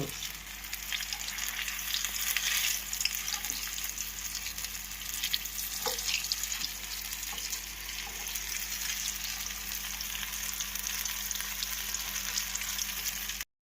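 Chicken bajji sizzles in hot oil, a steady, close bubbling crackle with faint scattered pops, continuing alone without talk.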